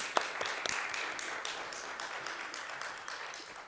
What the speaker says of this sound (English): a round of applause for Dr. Carr, please